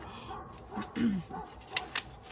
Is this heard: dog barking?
yes